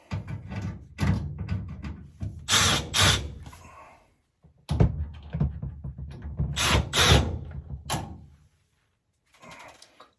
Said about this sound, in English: First, I'm going to remove some screws.